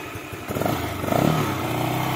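Modified fuel-injected Yamaha Mio 4V scooter fitted with a stock NMAX exhaust pipe, engine running nearby with a rough, pulsing idle that swells slightly as the throttle opens.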